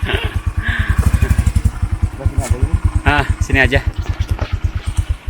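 Motorcycle engine idling with a steady, rapid pulsing thump, close by and loud throughout, after arriving at a campsite in a forest on a slippery trail; people talk over it.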